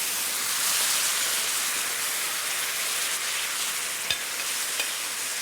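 Steady, dense sizzle of food sautéing in a hot pan, close and continuous with a faint clink near the end, no talk over it.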